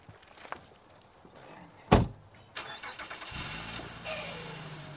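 A car with a rebuilt engine turns over after a sharp knock near the start, then catches and settles into a steady, quiet idle close by.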